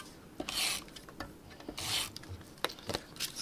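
Cardstock is trimmed at the edge while making a Christmas pop-up stepper card, giving a few close, quiet rasping cuts and scraping strokes with small taps and handling clicks between them, no talk.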